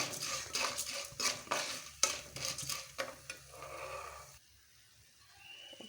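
Coriander seeds, two spoonfuls, being stirred and dry-roasted in a pan for a drumstick-leaf spice powder, giving a steady scraping, rattling stir with faint sizzle that stops near the end, leaving quiet room tone. No one speaks.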